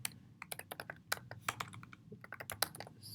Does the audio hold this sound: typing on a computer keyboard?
yes